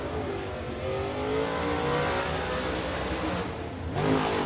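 A race car laps Wartburg Speedway, its engine droning steadily and loud with rising and falling pitch as it circles, then revving up again near the end, with no voices.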